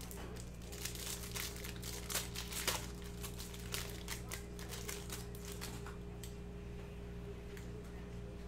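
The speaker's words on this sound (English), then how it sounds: "let's rip open this pack and let's see what we got inside" Foil wrapper of a Topps Chrome jumbo trading card pack being torn open and crinkled, quick crisp rips and rustles close to the mic over a steady electrical hum.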